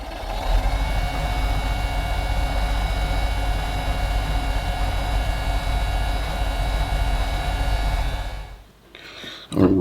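Continuous high-pitched whirring hum from a wood lathe spinning at speed while a resin pen blank is polished, loud and steady, before the motor winds down near the end.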